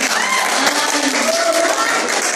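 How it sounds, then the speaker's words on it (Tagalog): An audience applauds the judges at a cake decorating contest, a dense, loud burst of clapping with cheering voices mixed in. "Palakpak naman."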